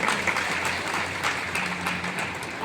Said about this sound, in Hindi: एक बार शानदार ताली होना चाहिए।